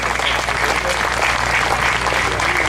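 A crowd of veterans at an outdoor stand down event applauds Northern California VA Healthcare staff, a steady, close wall of clapping with a low hum underneath, unbroken throughout.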